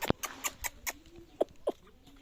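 Young chickens and a young rooster from a spring hatch cluck on a farm. Short, fairly faint clucks and chirps come in an irregular series of about half a dozen, close by, over quiet surroundings.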